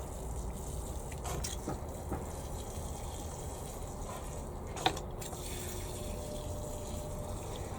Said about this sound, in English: give them a good drink of water